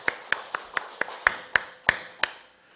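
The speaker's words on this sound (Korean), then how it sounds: "하나님 감사합니다 하면서 영광의 박수를 돌려보겠습니다" A congregation at a church anniversary thanksgiving service claps in unison, giving about nine sharp, evenly spaced claps that fade slightly toward the end.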